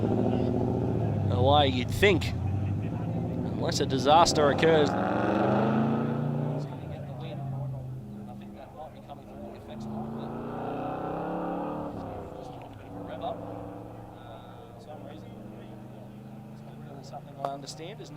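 A car pulls away from a cricket ground car park, its engine rumbling at mid distance and fading under steady commentary, with a few faint bumps later on.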